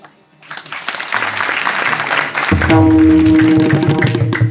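Audience clapping at a kirtan, rising from a quiet start into sustained, dense applause, with a harmonium or drone and music joining partway through.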